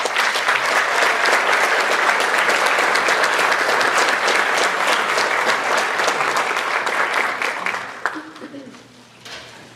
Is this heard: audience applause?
yes